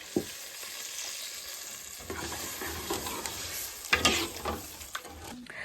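Tadka sizzling on a tandoor while Maggi noodles are prepared outdoors in Kinnaur, a continuous crackling fry with stirring scrapes and occasional utensil knocks, close and moderately loud.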